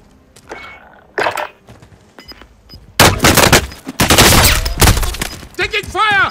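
Gunfire in the video game Call of Duty: Modern Warfare, loud dense bursts of rapid shots and heavy blasts in the second half after quieter scattered pops, with a voice speaking over the action.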